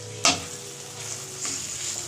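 Meat curry is stirred in a hot pan, with one sharp scrape of the spoon and then continuous sizzling frying.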